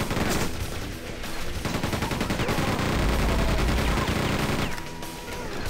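Chain gun fire in the video game Quake 2 on Xbox 360: rapid, continuous, loud mechanical bursts of shots that run almost without a break, with a short dip in the middle.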